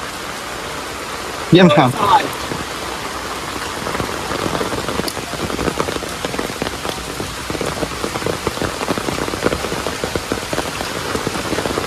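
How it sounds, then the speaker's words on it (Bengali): Heavy rain pours onto a deserted village road, a loud dense hiss of drops hitting the ground and umbrellas; a brief voice breaks in early, with scattered louder splashes over the steady roar. "অনেক বৃষ্টি হইতেছে"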